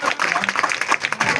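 Applause greets Hinaben Vaghela, a Kaun Banega Crorepati winner, at a community women's camp, with dense rapid clapping from a sizeable audience mixed with voices.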